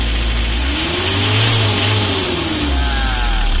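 A Mitsubishi L300 minibus engine drones loudly and revs up, the pitch rising and then falling back as it settles toward idle, with no knocking sound.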